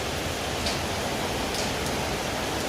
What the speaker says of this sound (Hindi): और अभी भी बारिश हो रही है।